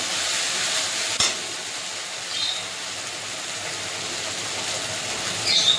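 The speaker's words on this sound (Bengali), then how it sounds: "কেটে রাখা মশলাটা দিয়ে দেবো পোস্ত কাঁচা লঙ্কা ভালো কষিয়ে নেবো মশলাটা দিয়ে" Spices, poppy seeds and green chili frying in hot oil for a prawn malai curry, a steady close sizzle filling the whole stretch with a sharp clack near the start and no voices.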